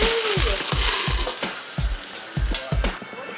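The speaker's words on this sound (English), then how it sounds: "He will flambe the salmon." A king salmon steak flambéed on a hot surface in a Japanese kitchen, with a copper cover at hand: a loud, close sizzle and hiss punctuated by a rhythmic series of dull knocks and taps.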